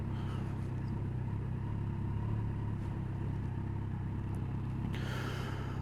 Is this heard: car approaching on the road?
yes